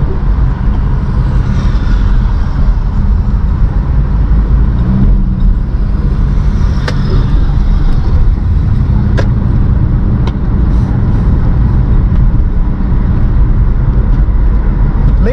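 Busy street traffic in Blumenau, Brazil rumbles loudly and continuously, with nearby car engines droning and accelerating and a few sharp clicks and knocks over the steady road noise.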